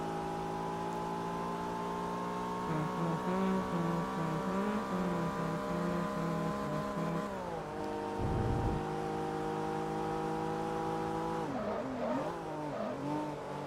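A Mitsubishi Eclipse races in Forza Motorsport 3, its engine droning loud and steady with rising and falling revs, gear-shift drops and a brief skid-like burst midway.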